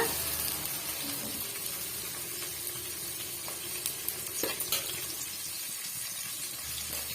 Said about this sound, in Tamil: வெங்காயம் ஒரு டூ மினிட்ஸ் நல்லாவே வந்து வதங்கி வரட்டுங்க